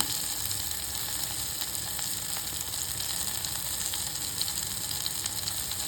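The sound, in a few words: green chillies and curry leaves sautéing in a pan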